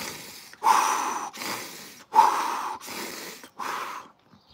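Deep, forceful breaths taken in a repeated breathing exercise before an ice bath, about five strong inhale-exhale cycles in steady rhythm, close and clear with no talking.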